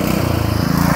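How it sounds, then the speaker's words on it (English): A Murray riding lawn mower engine runs steadily, a loud, rough droning putter heard close and alone with no talking. "it's the exact same mower, pretty much"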